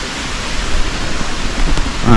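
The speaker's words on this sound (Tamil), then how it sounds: "இந்த தண்ணி போகிற சவுண்டு கூட த்ரூ அவுட் த நைட் நம்ம கேட்டுகிட்டே இருக்குது" A rain-swollen hillside stream in Kolli Hills rushes steadily and loudly, a dense continuous wash of sound with no other noise standing out.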